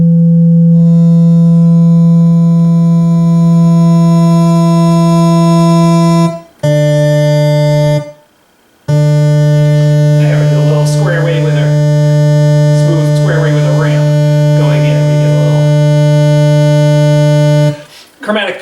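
A Baroque synthesizer's oscillators, including sub-octave square waves, sound a loud steady buzzy tone that cuts out twice and resumes, while someone talks over the middle part.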